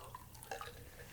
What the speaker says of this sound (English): Just gonna top it off with a little bit more water.